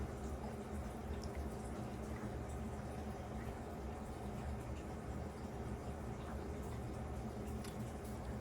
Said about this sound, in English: You guys can kind of see the water filling up down there.